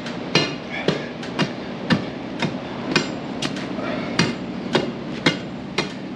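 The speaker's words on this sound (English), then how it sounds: "Chiseling away to get down an inch by inch." A chisel strikes repeatedly into the ground while a hole is dug for new horse stable stalls, sharp, close impacts falling in an uneven, steady rhythm of about a dozen blows, with no talk.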